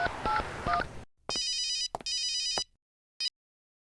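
A telephone rings in two long electronic bursts followed by a brief third chirp, preceded by a few dialing tones; no talking.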